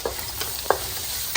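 Onion, green chilli and broccoli stirred in a pan while cooking chilli chicken, giving a steady low sizzle with three brief scraping stir strokes spaced across the moment.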